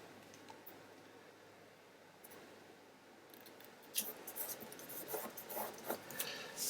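Scissors cutting out paper for a kaleidoscope craft project, a soft continuous rasp at first, then a livelier series of close snips and crisp slicing strokes in the second half, with no talking.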